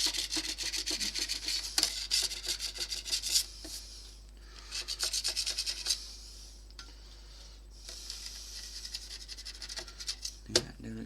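Paint is scraped off a bakelite radio case from a BX 373 in close, light rasping strokes that come in quick bursts with short pauses, faint against a low steady hum.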